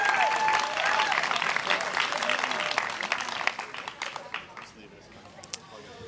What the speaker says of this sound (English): give another big round of applause.